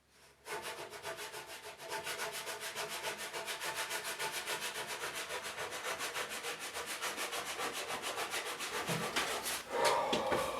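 Rhythmic back-and-forth rubbing of sandpaper lightly sanding a wooden workbench top, steady and close, continuing for several seconds before a brief clunk near the end.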